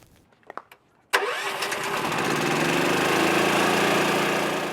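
A city forestry watering truck's engine kicks in abruptly after a few faint clicks and then runs steadily and loudly while watering trees.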